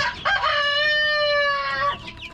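A rooster lets out one long, loud crow close by, with softer chicken clucking around it.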